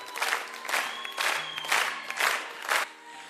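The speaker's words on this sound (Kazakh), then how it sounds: "Қол шапалақлар!" Wedding guests at a restaurant celebration applauding together, a sustained wash of clapping that swells in several waves, moderately loud and close, with a little murmur of the crowd beneath.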